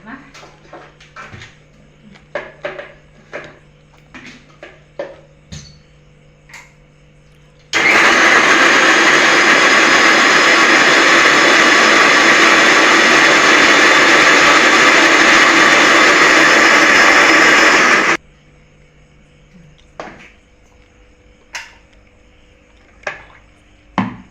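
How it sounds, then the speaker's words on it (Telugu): A mixer grinder blends cucumber pieces to a smooth paste, roaring loud and steady for about ten seconds before stopping, with quieter kitchen clatter and clicks before and after. "ఇలా దోసకాయ ముక్కలను మిక్సీ చేసుకున్నాం మెత్తగా"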